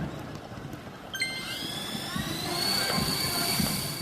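A homemade coaxial-rotor drone with counter-rotating propellers spins up and flies, its rising whine starting abruptly and settling into a steady high buzz over background noise.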